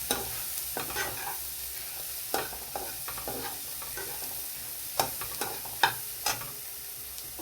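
Spices (salt, turmeric, chilli and cumin) are stirred into frying food in a pan for a prawn malai dish, with a soft steady sizzle and scattered scraping stir strokes, no talk.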